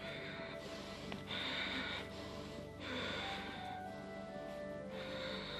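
Quick, forceful breaths come in and out through the nose during a yoga core flow. The rhythmic, airy puffs are repeated every second or so at close range, with no speech.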